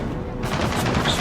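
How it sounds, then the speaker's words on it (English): A machine gun nest in Gears of War E-Day hammers out continuous rapid fire, a dense, loud rattle of gunfire filling the whole moment with battle noise. "Machine gun nest!"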